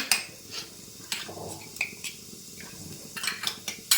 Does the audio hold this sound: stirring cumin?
yes